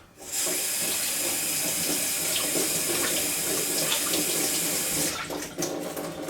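A kitchen tap runs steadily into a sink to rinse a small single-cup tea strainer, a loud, continuous close splashing that stops briefly near the end before resuming.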